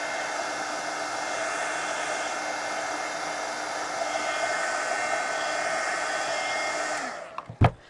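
A heat tool blows steadily to dry paint on a mixed media magazine journal, its droning whir holding for about seven seconds before winding down and stopping with a knock.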